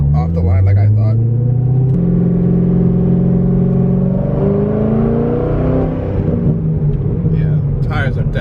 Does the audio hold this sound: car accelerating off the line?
yes